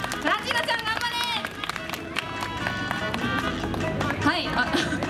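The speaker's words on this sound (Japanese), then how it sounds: "皆さん一回クラッチーナちゃんにちょっと拍手でエールをお願いします" A crowd at a baseball stadium mascot stage claps to cheer on the mascot Clutchina, the applause mixing with lively background music and some chatter.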